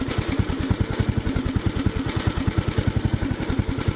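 A lawn mower engine runs close by with its throttle set near choke, giving a fast, even chugging pulse at steady loudness and no voices.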